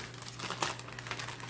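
A plastic zip-lock bag holding a craft kit crinkles as it is handled and opened, with a quick run of close, crisp rustles and one sharper crackle.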